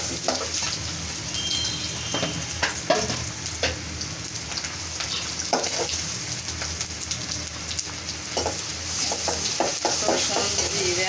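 Chopped garlic, cumin and coriander fry in hot oil with a dense, rain-like crackling sizzle that runs steadily throughout, punctuated by occasional stirring clatter up close.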